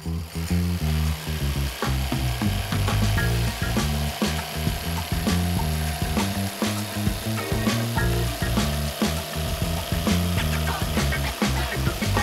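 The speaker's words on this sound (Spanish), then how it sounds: "Luego de realizar el corte con la caladora" A jigsaw cuts through wood in a woodworking shop, giving a loud, continuous, rhythmic buzzing chatter with uneven strokes that runs throughout, with no talk.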